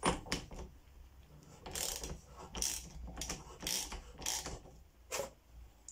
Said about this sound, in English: So I'm now going to undo the top cap. Like I said, it's just a 32mm socket